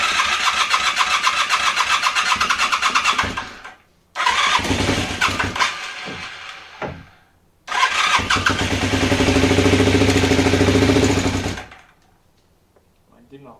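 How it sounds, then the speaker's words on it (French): An engine is cranked and started despite a fluid leak, running loud and close in three bursts separated by short pauses before cutting off, with a brief voice in the background. "j'essaye quand même de la démarrer pour voir ce que ça donne"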